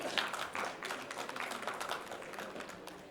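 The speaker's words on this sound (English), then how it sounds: "Can we have a big round of applause to Mr. Nikhil?" An audience applauds a speaker, the Global Head of Customer Experience at Tech Mahindra, at a business talk: steady dense clapping from a crowd, moderately faint and continuous throughout, with no speech over it.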